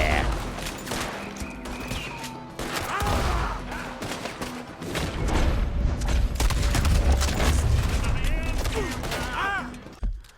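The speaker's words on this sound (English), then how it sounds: "Oh god, they're really shooting me." Enemy gunfire in Red Dead Redemption 2 crackles through a Western shootout, with repeated shots and booming blasts, some near and heavy, others farther off, over ambient game sound, with a person speaking briefly.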